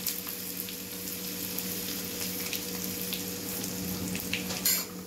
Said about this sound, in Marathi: ते आता आपण चांगले असे फोडणीला घातलेले तळून घेऊया, चांगले परतून घेऊया।